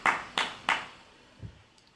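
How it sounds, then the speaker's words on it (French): A few hand claps from a preacher during a French sermon, three sharp strikes in quick succession, close and fairly loud, followed by a faint low thump and quiet. "J'applaudis."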